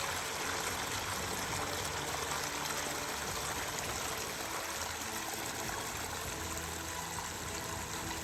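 Water pours steadily out of the drain of an overflowing pond after heavy rain, a continuous close gurgling stream with no break or voices.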